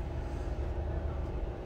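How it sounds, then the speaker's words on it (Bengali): A train slowly pulling out of Santragachi station, heard from inside as a steady low rumble and drone, moderately loud and continuous, with no talk. "তা ট্রেন এখনো আস্তে আস্তে সাঁতরাগাছি থেকে বেরোচ্ছে"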